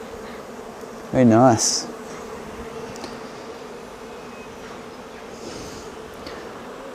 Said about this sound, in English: I've noticed that the bees are getting slightly more agitated